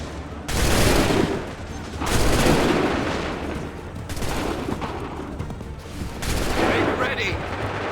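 Musket volleys crack out in a Revolutionary War battle at Lexington and Bunker Hill in Assassin's Creed 3, several broad, loud bursts of massed gunfire in sequence, each dissolving into rolling rumble, with shouted commands underneath.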